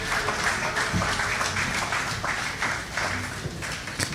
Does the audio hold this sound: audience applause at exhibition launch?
yes